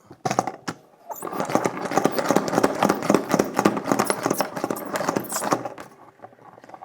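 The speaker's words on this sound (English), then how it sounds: "just put it in a salad spinner and spin it out" A salad spinner whirling shredded cabbage dry for coleslaw, a steady rattling, clattering whir that runs for several seconds close by and then winds down.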